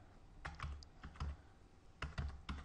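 Quiet bursts of typing on a computer keyboard, several quick key clicks in two short clusters, close and faint.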